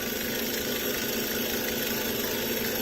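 A small two-cylinder Stirling engine educational toy running steadily, giving a continuous mechanical whir with a faint fast rattle and an unchanging level, alone without speech.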